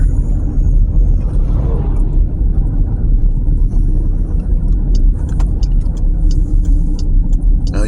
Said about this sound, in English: There's a logging truck.